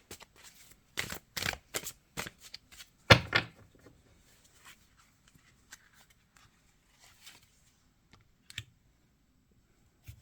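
Tarot cards shuffled by hand, a cluster of sharp, papery clacks and flicks in quick succession, then a few sparse, faint taps in near silence.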